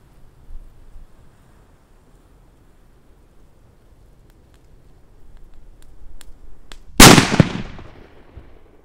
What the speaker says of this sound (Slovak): Taký zaujímavý výbuch, pretože nebolo to vôbec dunivé, ale taký proste ostrý výbuch